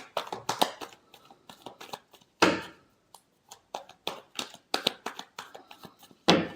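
Tarot cards are shuffled by hand in a series of quick, crisp riffles and slaps, with several sharper bursts among lighter flicks, close and clear without talk.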